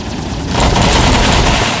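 The Killshot weapon in Mech Arena fires a dense, loud burst of rapid shots that swells after a brief quieter lead-in and keeps hammering to the end.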